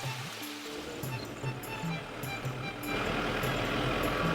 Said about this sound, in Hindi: दूर तक फैले साल वृक्ष के जंगल, चिड़ियों की चहचहाहट और छोटे छोटे झरने सारंडा की खूबसूरती बढ़ा रही है।